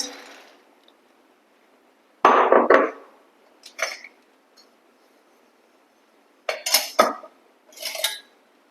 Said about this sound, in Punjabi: ਹੁਣ ਆਪਾਂ ਫੁੱਲ ਮਖਾਣੇ ਜਿਹੜੇ ਆ ਉਹਨਾਂ ਨੂੰ ਆਪਾਂ ਰੋਸਟ ਕਰ ਲਾਂਗੇ ਥੋੜਾ ਜਿਹਾ